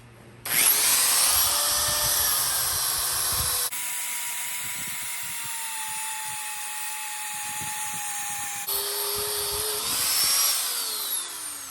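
Steady high-pitched whine of a file grinder sharpening a steel sword blade, running continuously for several seconds with abrupt shifts in pitch and tone as pressure and angle change.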